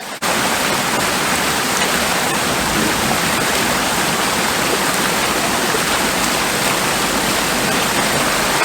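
Steady, full-band rush of river water flowing close by, continuous and even for the whole stretch with no talking over it.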